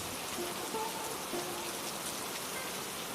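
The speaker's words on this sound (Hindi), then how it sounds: "बाहर अब भी" Heavy rain falls steadily outside a village home, a dense, even hiss of many drops with no breaks, loud and close throughout.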